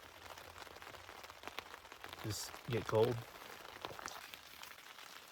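Constant rain falls on an elk hunt in cold, windy mountain weather, a soft, steady patter under a man's nearby speech.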